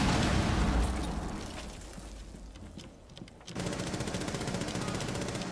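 Cluster charge blasts in Rainbow Six Siege: a heavy booming explosion opens, fades into quieter action, then a rapid string of sharp popping detonations follows.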